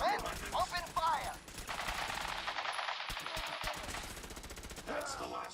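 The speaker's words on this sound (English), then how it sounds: "Stop or we'll shoot. Men, open fire." Rapid automatic gunfire from the game Fallout 4, a sustained burst of dense shots after brief voices at the start, with more voices returning as the firing trails off near the end.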